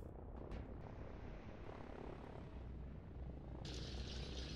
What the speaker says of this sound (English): He's sending his helicopters that way to stop this territory grab there.